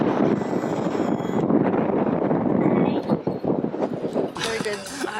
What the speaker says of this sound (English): Hiding from the wind.